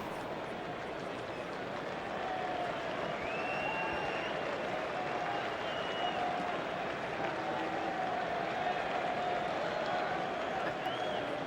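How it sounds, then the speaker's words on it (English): Cricket crowd in a Test match stadium applauding a fielder's catch, a broad, steady wash of distant clapping and crowd noise sustained throughout, with a commentator's voice faintly present. "Mr. Cook getting a clap in the outfield for his catching."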